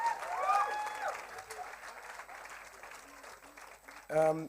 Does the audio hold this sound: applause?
yes